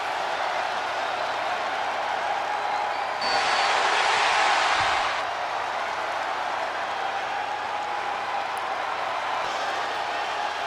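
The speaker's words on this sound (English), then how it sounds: "This crowd is fired up for Stone Cold." Video game crowd in WWE 2K22 cheering for Stone Cold's return as Raw General Manager: a steady roar of arena noise that swells into a louder burst of cheering for a couple of seconds mid-clip, then settles back to a constant crowd hum.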